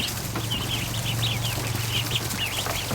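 Muscovy ducklings peep in a steady run of small, high chirps over a constant low hum, continuous throughout and fairly close.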